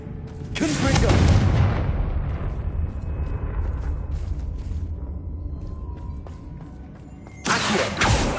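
A Confringo fire spell bursts in Hogwarts Legacy on PS5: a loud, booming blast rolls out and fades slowly, and a second sharp burst hits near the end.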